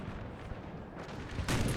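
Cannon fire in a Napoleonic war video game: rumbling low booms under continuous battlefield noise, with a sharper, louder blast arriving near the end.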